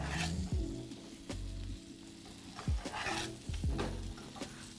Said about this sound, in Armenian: մի փոքր էլ խառնենք և թողնենք ավելի շատ չափաբաժնով տապակվի կարտոֆիլը